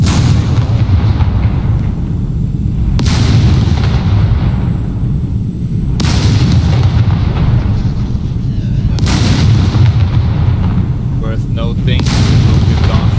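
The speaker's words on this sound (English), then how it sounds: "will start shooting at the dropship. So the turret has 20 rockets." A turret in the SCUM video game fires rockets at a dropship, five sharp loud blasts at roughly three-second intervals, each followed by a rumbling decay over a continuous low background drone.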